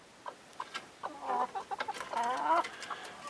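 Several hens clucking close by at a backyard chicken camper, soft scattered clucks building into a short louder run of calls, with quiet pauses between.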